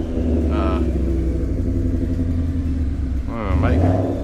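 A Ford Mustang engine rumbles steadily at idle during tuning, low and loud, with a voice talking briefly over it near the end.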